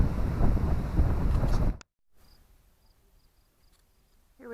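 Wind buffeting the microphone at the Indiana Dunes National Lakeshore, a loud roaring rush that cuts off abruptly into near quiet with faint bird and insect sounds, then gusts again at the end.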